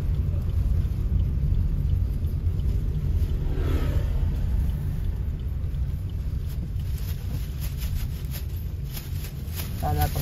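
A Suzuki Ertiga driving along a road at night, heard from inside the cabin as a continuous low engine and tyre rumble. It holds steady throughout, with a brief brighter swell of noise partway through.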